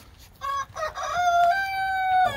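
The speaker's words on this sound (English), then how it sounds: "You hear that cluck?" A chicken clucks close by, a few short tonal calls and then a longer drawn-out squawk, with a voice faint in the background.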